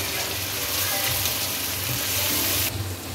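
Ground cumin, coriander powder and garam masala fry in hot oil for a mutton korma, giving a loud, steady, close sizzle that runs unbroken throughout with no voices.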